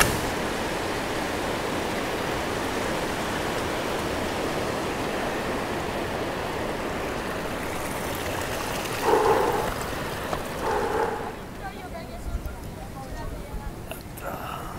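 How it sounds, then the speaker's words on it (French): Alpine mountain waterfall, heard from its base as a loud, steady roar of rushing water throughout, with brief quieter voices near the end. "dans le fond de la cascade."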